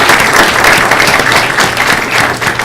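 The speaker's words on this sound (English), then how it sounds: "So we're going to give them a round of applause" A loud, dense round of applause from the audience at a school board meeting for a student team, with many hands clapping steadily close by and no talk over it.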